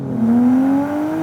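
A straight-piped Nissan Skyline R34 GT-T with a turbocharged RB25DET Neo and no muffler revs up close and loud, its pitch climbing smoothly in one rising pull.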